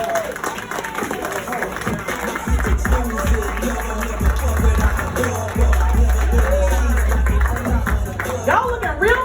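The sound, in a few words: comedy theater audience applause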